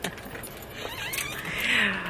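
Keys jangle near a door as it is being locked, a light metallic rattling and clinking that builds toward the end over a faint background hum.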